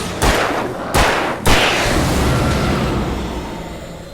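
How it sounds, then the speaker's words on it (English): Shotgun blasts in the video game Alan Wake Remastered, three loud, thumping shots in quick succession, each a sharp crack with a booming tail, the last ringing out into a long decay. "the shotgun providing a thumping, impactful blast"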